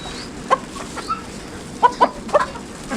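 Aseel chickens, including a yellow Aseel rooster and white Aseel hens, give short clucks in scattered bursts at close range over a low background hum, with no talk.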